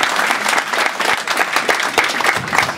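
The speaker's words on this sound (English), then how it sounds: "Big applause for Peter," Audience applause for a poker player at a World Series of Poker Week event in Las Vegas, a dense and steady burst of many hands clapping from a crowd, loud and close throughout.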